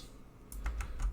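Typing on a computer keyboard at a server command prompt, a handful of crisp, quiet keystrokes in quick succession after a brief hush, close to the microphone.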